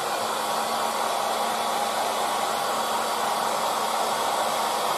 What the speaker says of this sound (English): So for the acrylic paints, you can use the air dryer.